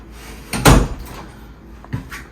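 An arch panel door in a tiny house swings shut with one firm thud, and a softer knock follows a moment later.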